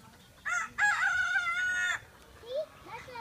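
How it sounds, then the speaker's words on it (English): A rooster crows nearby, a short call then one long drawn-out crow, followed by softer clucks in a quiet farmyard. "That was a rooster."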